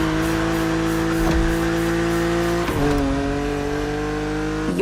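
A BMW Z4 E89 coupe cabriolet drives in The Crew Motorfest video game, its engine holding a steady loud drone with brief shifts and tire noise, near and alone with no talk.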